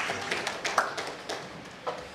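A few scattered, fairly faint hand claps from the audience at an Africa tech alliance forum conference, sparse rather than a full ovation, with a low murmur between them.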